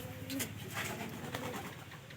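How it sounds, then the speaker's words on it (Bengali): A pigeon kept in a home loft coos softly at close range, giving a few low, muffled calls over faint room noise. "এই আমাদের তৃতীয় ঘরে যে কবুতরটা আছে"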